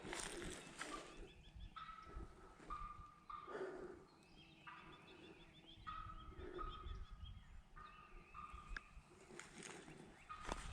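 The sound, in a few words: wild turkey jake calling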